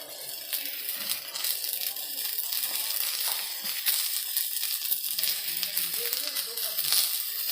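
Small green chillies hitting hot oil in a pan for fried rice, a steady close sizzle with crackles and occasional clinks of utensils.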